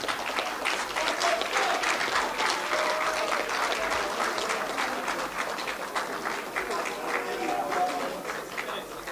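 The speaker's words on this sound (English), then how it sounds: "Please, let's continue to applaud him." An audience at a political party event on a maritime agenda applauds for about nine seconds, with dense, steady clapping from many hands that holds a constant level and tails off slightly at the end, with no voices standing out.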